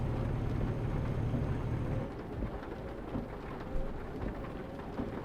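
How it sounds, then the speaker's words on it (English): Steady rain falls in Euro Truck Simulator 2, a dense hiss with low rumbling that drops in level after a couple of seconds, with a few soft thumps and no talking. "Lovely rain. It's lovely weather."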